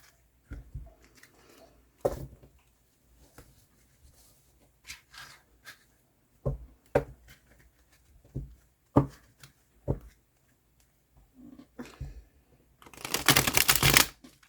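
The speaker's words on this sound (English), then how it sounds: "I feel like they're going to be easy to riffle" Several short riffling bursts of tarot cards being shuffled, with brief pauses between, ending in a longer, louder flurry of fluttering cards close by.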